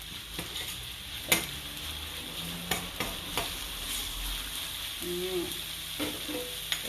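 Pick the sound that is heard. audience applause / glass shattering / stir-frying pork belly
stir-frying pork belly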